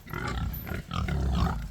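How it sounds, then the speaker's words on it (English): Pasture-raised pigs grunt and snort in short bursts while being herded on a farm, sounding close and fairly loud with brief pauses between the grunts. "Come on, little pigs."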